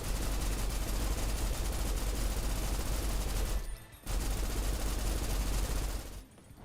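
Dense, continuous automatic gunfire in the video game Snowbreak, a loud unbroken roar of rapid shots that cuts out briefly twice, then resumes at full strength.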